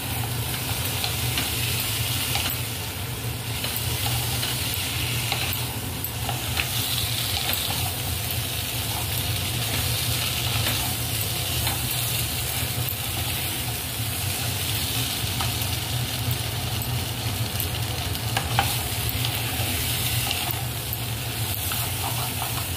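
Catla fish curry with turnip and chopped tomatoes sizzles steadily in a hot pan while being stirred, a continuous close frying hiss with soft scraping throughout, no voices.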